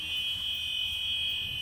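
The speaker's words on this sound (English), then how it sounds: "Alarm sounds." School bus emergency door alarm during a pre-trip inspection, a steady, loud, high electronic buzz held without a break, with a faint rumble underneath.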